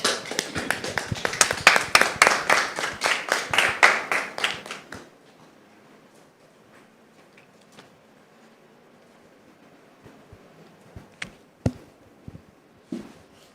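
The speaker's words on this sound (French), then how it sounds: "Merci de recevoir Anissé sous vos applaudissements." Studio audience on a French television talk show clapping for about five seconds in a brisk run of distinct claps, then stopping abruptly, leaving near silence broken by a few scattered taps and knocks.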